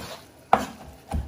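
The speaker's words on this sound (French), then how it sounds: "on hache bien comme un steak haché, un steak à tartare" A knife chops lamb meat finely on a board, two sharp strikes separated by a short pause.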